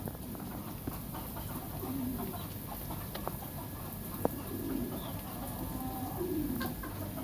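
Chickens fenced in a yard alongside pigeons, with a few soft clucks and calls scattered over steady low background noise, fairly faint and moderately distant.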